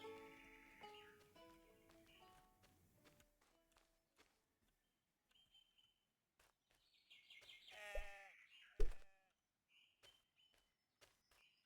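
Sheep bleat in a video game, with several wavering calls early on and more later. They mix with other game sounds and sharp thuds, and everything stays fairly faint.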